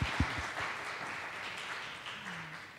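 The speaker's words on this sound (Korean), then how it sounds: "우리 감사의 마음 담아서 다시 한번 감사의 박수 드리도록 하겠습니다" Faint applause of thanks from a church audience at a parents and teachers seminar, a soft, steady patter of clapping after a few sharper opening claps, heard from a distance.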